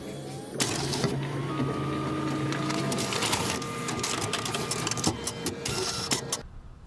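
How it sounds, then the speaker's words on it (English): A copier scans a document while its carriage moves, producing a steady mechanical whir with a rising motor tone, a few clicks and rattles, and an abrupt stop near the end. The scanner carriage shakes as it travels. "Copier copying, take 3."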